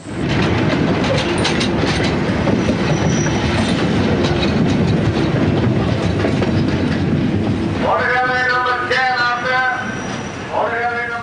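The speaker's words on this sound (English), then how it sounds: "your long hauls on a night time with the freight trains" A freight train rumbles and clatters past up close at night, loud and continuous, with squealing wheels rising near the end.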